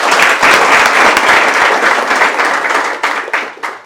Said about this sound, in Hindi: चलो तालियां हो जाए यार